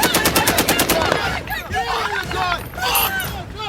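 Machine gun fire in a military combat training scenario opens with loud, rapid, evenly spaced bursts, then gives way to shouting voices and chaotic background noise.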